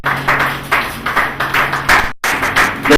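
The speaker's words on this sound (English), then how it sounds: "let's give a clap" Audience clapping at a tenth anniversary celebration, rhythmic bursts of hand claps repeating in a steady pattern, fairly close and loud, with a brief gap near the end before the clapping resumes.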